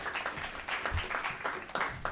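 Audience applause at an evening event honoring a partner, a short burst of dense clapping from a crowd with individual claps pulsing through.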